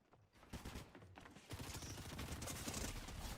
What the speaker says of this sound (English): This guy is going crazy with the SMG